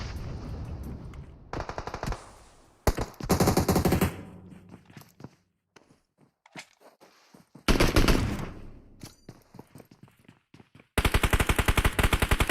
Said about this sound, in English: he's just managing to avoid the gunshots